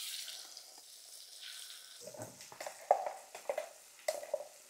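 Black ground masala and spices sizzle softly in oil over a low gas flame, a faint steady hiss with a few light stirring scrapes and clinks close by.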